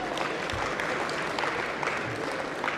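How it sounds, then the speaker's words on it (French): Applause from an audience at an inaugural speech, a moderately faint and steady patter of many hands clapping throughout. "que vous pouvez applaudir"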